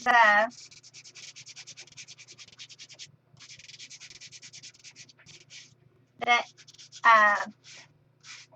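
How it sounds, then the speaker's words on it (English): Rhythmic, scratchy strokes of a sanding block rubbing across white-core cardstock, with a person talking briefly before and after. "close to my heart cardstock is white core, you can sand off and get really nice white lines"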